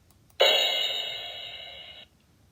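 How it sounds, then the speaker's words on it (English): A crash cymbal struck once, a bright shimmering wash that bursts in sharply, rings and slowly fades before being cut off after about a second and a half, heard alone. "What vibrates when a cymbal is hit?"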